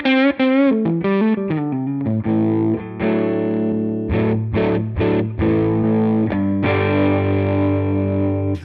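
Electric guitar on the neck pickup through a Helix A30 Fawn Vox amp model, playing a run of quick picked notes before settling into sustained, ringing chords with a few brief pauses, warm and slightly driven, alone with no talking.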